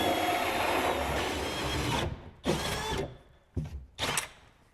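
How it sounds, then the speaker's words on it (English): A diamond abrasive hole saw grinds through drywall in a loud, steady whir for about two seconds, then cuts off and returns in several short bursts separated by near silence. "this fancy hole saw is like diamond abrasive"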